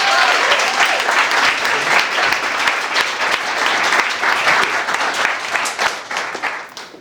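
Audience at a live speaking event breaks into dense, sustained applause, loud and even throughout before easing slightly at the close.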